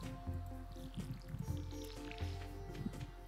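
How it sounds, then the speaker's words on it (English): A watering can sprinkles crops in Stardew Valley, giving soft repeated splashing and dripping bursts that come a few times in quick succession and are heard clearly without any talking. "Time to water stuff."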